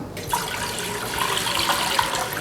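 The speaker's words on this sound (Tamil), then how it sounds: "தண்ணி ஊற்றி தண்ணி நல்லா கொதிக்கட்டும்" Continuous splashing water pouring steadily into a cooking pot, close and fairly loud, with no voices.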